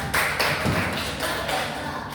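A short burst of clapping for a presenter named Kak Saiba during a school teaching-skills session, several quick, close hand claps over about two seconds with no talk.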